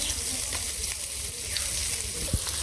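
Small puti fish frying in a pan of hot oil, giving a steady, dense sizzle that holds throughout with a few faint clinks from the pan.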